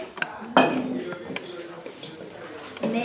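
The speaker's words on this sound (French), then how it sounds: "Je continue à mélanger." Doughnut batter for carnival fritters is being stirred in a bowl, with a spoon clinking and scraping against the sides in irregular strokes. Close and moderately loud, with voices talking in between.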